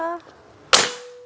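A single sharp crack from a Mouser OD 32 classic PCP air rifle being fired during a shot-count test, loud and close, with a brief decaying tail after a faint tonal beep.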